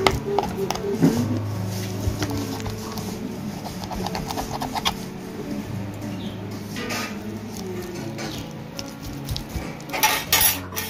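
A katla fish has its head cut off, with a knife knocking and scraping against a metal plate or pan in repeated close clinks and clatters, the clatter picking up again toward the end.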